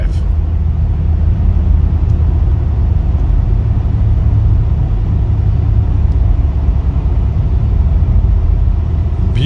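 Steady low road rumble and engine drone fill the cabin of a 2015 Maserati Ghibli S Q4 with an AWD 3.0-liter twin-turbo V6 while it is driven and accelerates, loud and unbroken throughout.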